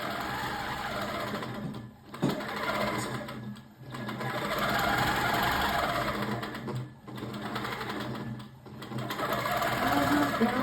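A longarm quilting machine stitches with a loud, steady mechanical whir and rapid needle chatter, dipping briefly several times as it slows and then picking back up to speed.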